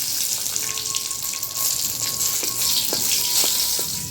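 Bay leaf and dried chilli sizzle steadily in hot oil in a pan, a close, continuous frying hiss with small crackles and pops throughout.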